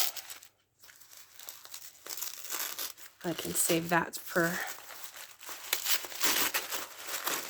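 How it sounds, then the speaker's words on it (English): Pretty tissue paper from a packaged art delivery holding an owl portrait crinkles and rustles close by in bursts, alternating with someone speaking. "And this is pretty tissue paper too."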